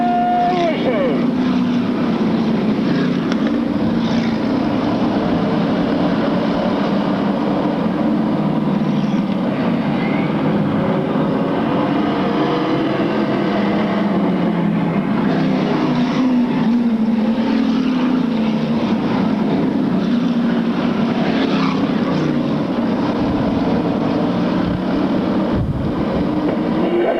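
Late model sportsman race cars roaring around an oval track at a 1996 race, a dense continuous engine drone with rising and falling pitch as the pack passes, loud and sustained under faint crowd and announcer noise.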